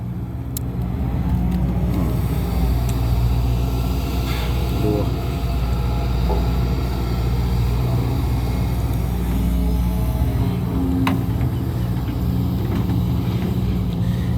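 A Sumitomo SH210-F6 excavator engine runs with a steady, loud low rumble and mechanical hum that barely changes, while someone talks over it.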